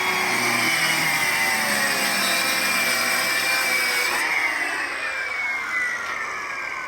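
A circular skill saw making a straight cut through wood, a loud, steady high-pitched whine held throughout that shifts slightly in pitch as the cut finishes.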